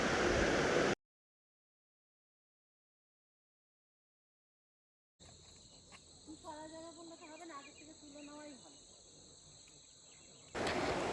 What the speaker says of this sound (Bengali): আর এই ঝিঝি পোকার ডাক